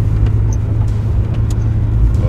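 A Nissan Cedric car drives along with a steady low engine and road rumble heard from inside the cabin, continuous and fairly loud, with a few faint higher squeaks over the drone.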